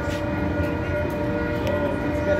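Passing train rumbling steadily, with a low continuous roar and faint tonal whine throughout, loud and close.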